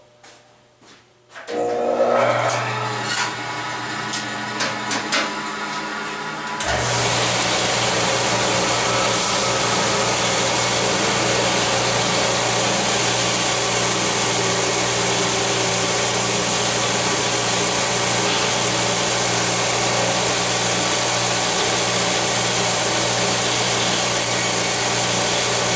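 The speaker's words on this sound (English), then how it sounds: "I'll run this through my sander to the thickness of my pearl, and I'll drop it in there." A sander starts up, spins steadily with a constant loud whir, and then takes on a broader abrasive roar as guitar fingerboard binding is fed through to thin it to pearl thickness, running continuously with no talking.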